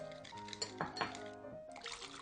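Vinegar poured into a bowl of sauce made with sesame paste, brown sugar and soy sauce: a short, quiet liquid trickle with a few soft splashes and light clinks against the bowl.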